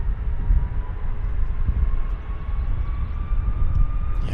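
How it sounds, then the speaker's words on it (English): An Airbus A330 bound for Montreal rolls onto runway 8 right at Vancouver airport, a steady broad jet-engine roar holding loud and continuous throughout, heard from a distance with no talking. "A330 to Montreal's turning on to the active."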